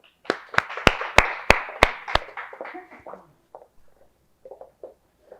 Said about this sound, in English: let's give a virtual round of applause for our educator of the day